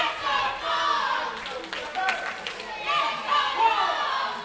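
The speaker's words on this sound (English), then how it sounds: "The crowd of questionable opinion here, cheering on Mark Trew." A wrestling crowd at a live WrestleForce show in Wickford cheers and shouts in uneven surges, with a commentator talking over the noise throughout.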